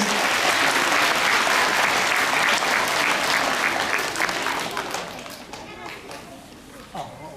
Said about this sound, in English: How about a nice 10 South School claps to start things off with?